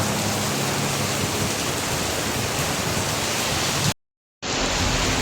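Heavy rain pours steadily on a dark, rainy afternoon, a dense, loud, close wash of hiss that cuts out briefly near the end before resuming.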